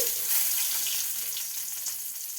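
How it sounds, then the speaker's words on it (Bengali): Bay leaves and cloves hit hot mustard oil in a pan, producing a bright, steady crackling sizzle that is close and fairly loud for the whole moment. "তেল গরম হয়ে গেছে, এবার আমি দিয়ে দিচ্ছি দুটো তেজপাতা, দুটো দিয়ে দিচ্ছি লং"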